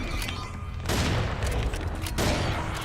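Double-barrel shotgun blasts in the video game Serious Sam 4, two loud booming shots a second or so apart over a dense layer of continuous game noise.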